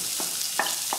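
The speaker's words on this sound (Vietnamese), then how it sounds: "khi mà dầu nóng thì mình sẽ phi thơm cái hành tím băm nha." Minced shallots sizzle in hot cooking oil, giving a steady, close hiss with a few brief crackling bursts.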